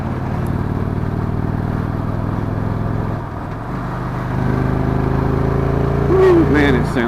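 A 2016 Victory Cross Country touring motorcycle's engine drones steadily and loudly while riding, with a brief dip in the middle and wind buffeting; a voice cuts in near the end.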